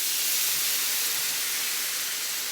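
Hot water poured into a pan of flour for smothered pork chops gives off a steady, broad hiss of steam that stays even and fairly loud throughout, with no voices.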